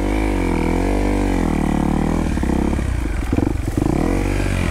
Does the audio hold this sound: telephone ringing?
no